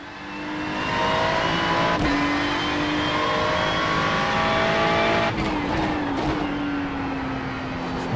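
A race car engine on track in the iRacing simulator, loud and sustained with a steady high whine, brief gear-change dips and a rising pitch sweep late on, close and continuous.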